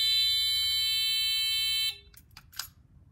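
A RoboGuard gate alarm buzzer sounds a loud, steady electronic tone for about two seconds, then cuts off, leaving faint background noise with a few soft clicks.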